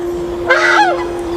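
A single loud nasal honk from a pet duck at a temple, close by and alone against a steady background hum.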